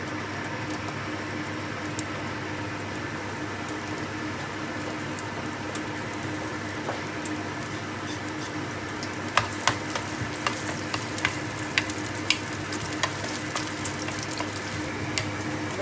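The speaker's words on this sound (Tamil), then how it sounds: "சின்ன வெங்காயம் இதை நான் கொட்டி இதில் வதக்கலாம்" Shallots sauté in hot oil with a constant close crackling sizzle, joined in the second half by a run of sharp clicks and taps from utensils stirring against the pan, no speech.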